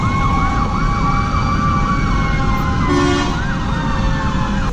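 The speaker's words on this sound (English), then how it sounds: "had to wait for the sirens to go by" Emergency vehicle sirens wail past on a road beside a gas station, rising and falling continuously over steady traffic rumble, loud and close, with a brief shift in tone near the end as they go by.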